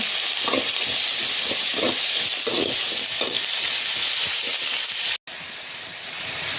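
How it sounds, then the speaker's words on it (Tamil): Onions and green chillies fry in hot oil with fenugreek and garlic for a fish curry, a dense steady sizzle with soft stirring scrapes, close and continuous with a brief cut near the end. "பச்சை மிளகாய் நல்லா வதங்கினோடனே வெங்காயம் போட்டுக்கலாம்."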